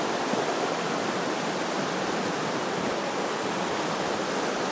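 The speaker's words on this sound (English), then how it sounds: "That creek that comes out of the mountain." A mountain creek pours out of the hillside in Alpine Lakes Wilderness near a campsite, a steady, dense rushing roar of water holding constant and close throughout, with no voices over it.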